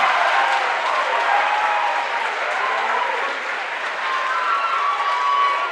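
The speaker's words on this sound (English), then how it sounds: "Listen to this crowd." A high school wrestling crowd at a dual meet applauds and cheers after a pin win, a loud, continuous roar of clapping filling the gym without a break.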